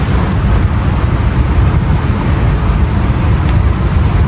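A 1997 Murray 30575X31A lawnmower engine runs with a loud, steady roar, heard close up and alone.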